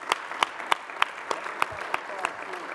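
At a transit agreement signing ceremony, a modest group applauds Union City with distinct claps in a fairly regular rhythm, fairly close and of moderate loudness, over a soft room murmur.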